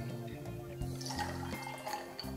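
Pineapple juice and orange juice pour into a measure for a cocktail, a soft continuous trickle of liquid heard close up for a couple of seconds with no talking.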